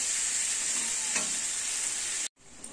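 Meat being stir-fried for a Bengali mangsho kosha, cooked with turmeric and other ground spices, sizzling steadily in a pan with a brief stirring scrape before the sound cuts out near the end.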